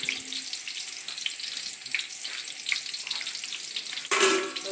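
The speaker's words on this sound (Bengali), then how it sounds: "পেঁয়াজটা ভেজে নেবো" Onions frying in a pan for pulao, a steady soft sizzle and crackle throughout, with a brief louder clatter near the end.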